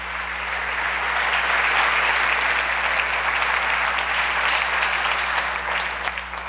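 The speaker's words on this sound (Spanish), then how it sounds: "Denle un aplauso al Señor, pues." A congregation at a church service claps together in sustained, even applause that holds steady for several seconds over a low background hum.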